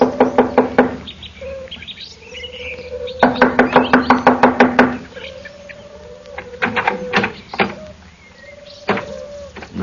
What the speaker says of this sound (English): I'll knock on the door.